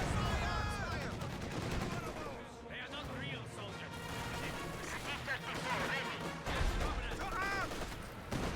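LeFH howitzer fire in Company of Heroes 2, a 2v2 match on the Wolfheze map, with booming shots and rattling gunfire layered thickly under continuous commentary.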